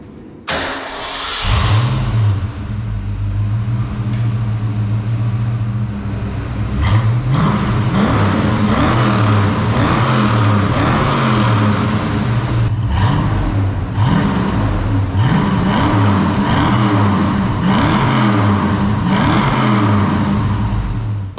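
A car engine fitted with aftermarket headers, a catted H-pipe and mufflers cranks and fires up close by, then settles into a burbling idle broken by repeated sharp throttle blips and revs.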